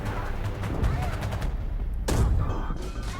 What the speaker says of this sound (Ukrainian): Уже хтось стріляє.